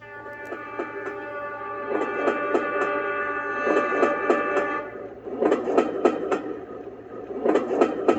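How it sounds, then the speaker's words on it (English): A recorded train sound played on a Magic Team white noise machine: a steady rolling rumble with a sustained horn-like drone in the first half, then rhythmic clickety-clack wheel beats on the rails, close and continuous. "That's a train."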